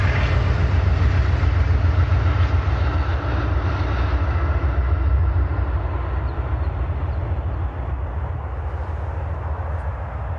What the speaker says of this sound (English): Freight train tracks behind me.